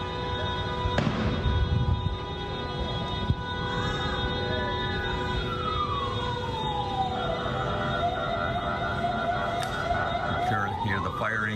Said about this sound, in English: Hear the fire engines and the police cars now